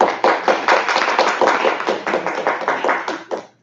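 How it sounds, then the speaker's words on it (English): Audience applause for a speaker at a panel talk on Black entrepreneurship, a steady room-filling clapping lasting about three seconds before tapering off quickly. "Let's give Ms. Brianna a round of applause."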